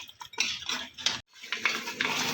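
A metal spoon stirs onions and spices frying in a pot for mutton paya, making repeated close scraping and clinking strokes with a soft sizzle beneath, and one short pause midway.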